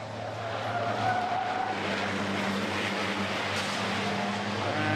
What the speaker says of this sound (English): The Jean-Pierre Blaise truck, the man from Belgium, into the gravel.